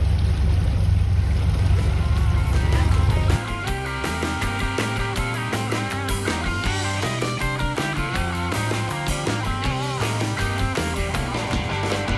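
A motorboat engine drones steadily over rushing water and wind on Lake Havasu, Arizona, with a busy, continuous churn throughout.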